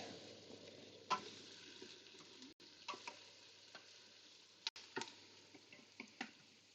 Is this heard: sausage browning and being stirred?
yes